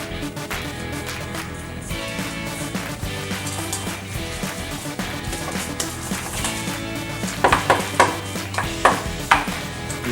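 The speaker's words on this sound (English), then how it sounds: "You mix well." A whole egg being mixed into a creamy asparagus tart filling in a bowl, with steady scraping and stirring that turns into sharper, quicker utensil knocks near the end.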